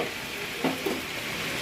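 Masala paste of ginger, garlic, turmeric and ground spices fries in hot oil for a fish curry with bamboo shoot, a steady close sizzle with a couple of brief stirring scrapes.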